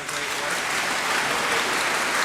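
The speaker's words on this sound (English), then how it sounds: "would you give them a round of applause for their" Audience applause at a spring choral concert, a steady wash of many hands clapping in a large room, sustained and even throughout with no pauses.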